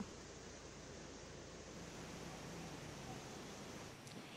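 Strong waves pound the Pangasinan coast, a steady broad roar of surf heard faint and distant without breaks.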